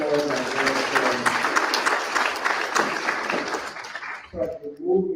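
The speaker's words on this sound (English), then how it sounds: "Let's give him another big round of applause" A conference audience claps warmly in a lecture hall, a strong burst of applause that thins out near the end as a voice begins speaking over the last scattered claps.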